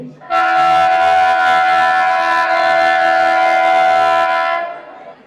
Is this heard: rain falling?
no